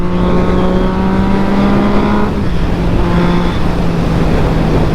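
A motorcycle engine pulls hard in fourth gear, a loud, close, steady drone with a brief dip in pitch partway through before it settles and carries on.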